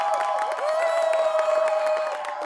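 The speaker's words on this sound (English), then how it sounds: "please a big round of applause for Kristina Wong" Studio audience at a late-night comedy news show cheering and applauding as a writer and performance artist guest comes on, a dense, steady roar of claps and whoops filling the whole moment.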